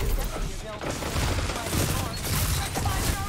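Rapid video-game gunfire rattles in dense, continuous bursts as shots are fired through enemy shields, with a muffled, busy mix of other game sounds underneath.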